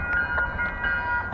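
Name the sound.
MBTA Purple Line commuter train arriving at Norfolk station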